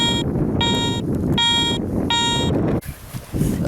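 A metal detector sounds a series of four regular electronic tones during a dig beside a police station, each beep about half a second long over wind and outdoor noise, then a rustling, scraping sound follows.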